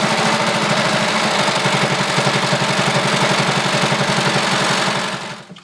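A sewing machine stitches a long seam on a circle skirt, running steadily with a fast, even mechanical chatter for about five seconds before stopping.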